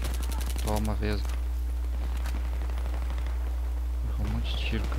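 Gunfire in a Battlefield-style military shooter video game, with rapid bursts and scattered shots over a constant low game rumble, while a player talks excitedly over the action.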